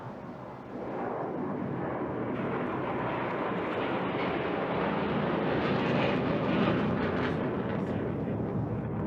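Saab Draken and Viggen jet fighters flying at the Bournemouth Air Festival air display, a loud continuous roar of jet engines building slightly and sustained throughout, with no talking.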